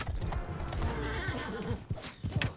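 A horse in a video game battle whinnies loudly and close, with a rising, shaky neigh over soft hoof clatter and some rumbling background noise.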